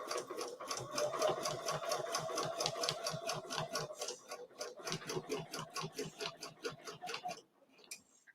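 A sewing machine stitches a quilt along a curved template, its needle clattering in a fast, steady rhythm close by, with a short pause midway and a halt near the end.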